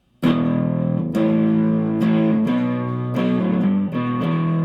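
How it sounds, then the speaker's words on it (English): Electric guitar through an amp with the preamp overdriven into distortion, strummed chords ringing loud and sustained, struck roughly once per second, with no voices. "Because it's overdriving the preamp."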